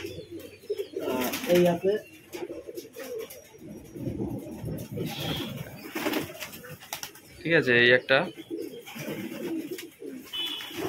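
Pigeons coo in soft, rolling calls close by, several bursts spread across the clip, while people talk quietly in between.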